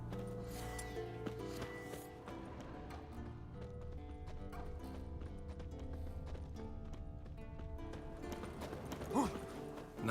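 Horse hooves clip-clop in the video game The Witcher 3, a steady walking rhythm over game music and ambience, with a faint whinny near the end.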